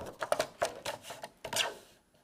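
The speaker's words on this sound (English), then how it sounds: "I've got a piece of white cardstock. I'm just going to trim down" White cardstock is trimmed on a paper trimmer with a series of close, quick clicking and scraping taps in an uneven rhythm, quiet and alone.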